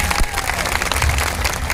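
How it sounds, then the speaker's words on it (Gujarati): A crowd at a political rally in Chhota Udepur applauds an MLA with dense, continuous clapping that fills the whole moment at a loud, even level. "આપણા ધારાસભ્ય શ્રી ગોપાલભાઈ માટે આપણે જોરદાર તાળીઓના ગણગણાટથી એમને વધાવી લઈએ"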